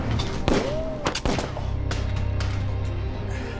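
Gunshots in an action film, several sharp loud bangs in quick succession, followed by a low rumbling tail.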